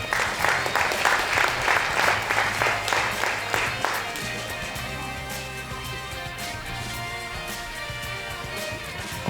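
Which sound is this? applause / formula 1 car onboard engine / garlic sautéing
applause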